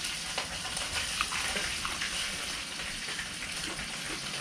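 Fish frying in a pan for an Isan-style fish larb, a steady, dense sizzle that runs unbroken throughout at moderate loudness, with no talking over it.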